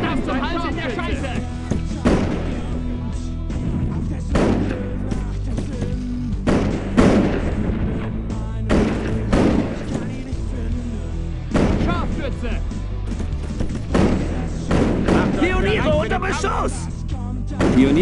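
Mortar rounds and smoke shells fire in a war video game, with repeated heavy thumps and booming blasts every second or two over a dense rumbling battle bed, while voices talk.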